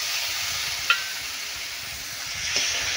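Spice paste frying in a pan with a small splash of water, a steady loud sizzle and hiss throughout, with a couple of faint scraping stirs.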